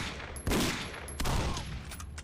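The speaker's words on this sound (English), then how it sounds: "I literally have no idea who's shooting the fucking gun." Gunfire in the video game Condemned: Criminal Origins, two sharp loud bursts of shots about a second apart with ringing tails, heard alone.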